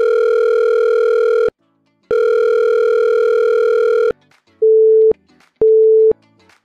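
Two long, loud steady telephone tones separated by a short gap, followed by two shorter lower beeps, sound before a French voicemail greeting, with no voices.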